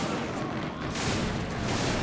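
Dense, continuous gunfire and artillery blasts in a World War II-style war video game, a loud unbroken barrage of overlapping shots and booms across the whole short stretch.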